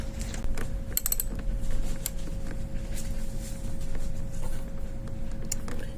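A 10 mm wrench works on a bolt of a car's air filter housing, giving soft mechanical creaks and a few metallic clicks under a steady hum, with no one talking.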